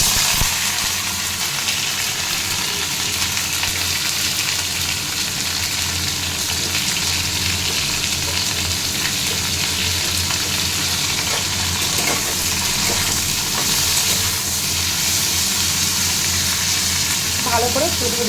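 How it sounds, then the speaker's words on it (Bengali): Cauliflower florets fry in hot oil in a kadai, giving a steady, close sizzle and crackle that runs unbroken throughout. "এদিকে কড়াইতে আমার তেল গরম হয়ে গেছে। এবার আমি এই ফুলকপিগুলোকে ভেজে নেব।"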